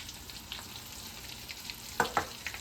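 Battered low-carb, gluten-free onion rings frying in an uncrowded pan: a steady soft sizzle under faint clatter, with a couple of louder knocks near the end and no talking.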